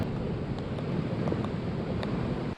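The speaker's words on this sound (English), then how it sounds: "it still packed a punch with 120-mile-an-hour wind gusts and heavy rain" Strong hurricane wind gusts roar in a continuous broadband rush, loud and close to the microphone, then cut off abruptly at the end.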